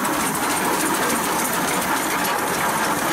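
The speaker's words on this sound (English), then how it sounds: "Coming up to drive right now, this is a 1904 Altman Double Star, owned by Alamo Middleton, Indiana." A 1904 Altman Double Star engine runs in an outdoor pioneer engineers parade, its steady loud chugging and hiss holding on continuously without pause.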